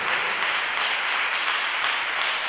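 A church congregation applauds, steady dense clapping filling the room at close range without pause.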